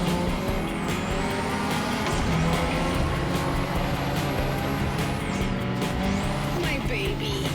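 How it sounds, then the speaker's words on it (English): A turbo-boosted Mazda RX-7 FD in the racing game The Crew Motorfest roars continuously, its engine note rising and falling through gear changes against dense game sound, with voices talking over it. "for the final race of the episode, we've got us another FD, Mazda RX-7 Turbo Boosted"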